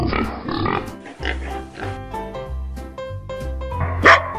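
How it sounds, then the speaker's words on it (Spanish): Repeated barks of a dog over a bouncy, steady music track, several short yips spread across the clip. "Este es un perro."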